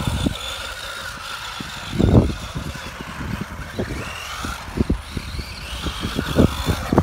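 Tamiya Top Force and Super Sabre radio-controlled cars running, a steady whine of small electric motors with repeated sharp bursts and scrapes as the cars stop and turn, fairly close and without talk.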